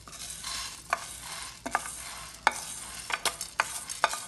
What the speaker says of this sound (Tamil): நல்ல மணம் வர வரைக்கும் வறுக்கணும், பர்ன் பண்ணிடாமல் வறுக்கணும்